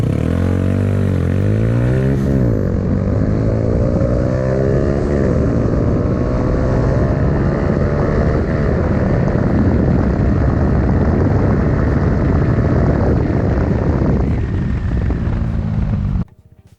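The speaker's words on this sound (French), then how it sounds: "Je te laisse avec cette accélération pour te montrer que malgré sa petite cylindrée, la CBR en a dans le ventre." A Honda CBR125R motorcycle accelerating hard, its small single engine droning loud and close as the pitch climbs through several gear changes before cutting off abruptly at the end.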